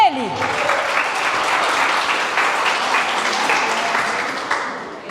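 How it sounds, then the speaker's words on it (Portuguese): A church congregation breaks into sustained applause, a dense, steady wash of many hands clapping close by that holds level throughout, with a brief voice at the very start. "Você pode aplaudir Ele?"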